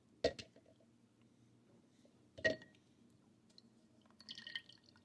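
Two distinct drips fall a couple of seconds apart, faint and close, with a soft trickle of water near the end in a quiet room, as water drips slowly through a triple-layer metal Aeropress coffee filter.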